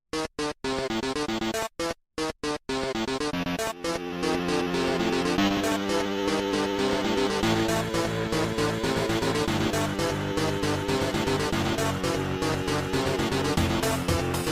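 Fast electronic boss battle music plays alone, starting with choppy stuttering notes before settling into a steady, driving melody with a strong beat.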